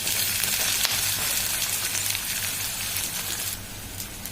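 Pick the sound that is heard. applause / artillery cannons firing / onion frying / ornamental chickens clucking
onion frying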